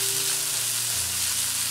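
Onions and peas frying in a pan for paneer bhurji give a constant, even hiss of sizzling oil, close and steady, with no stirring or voices.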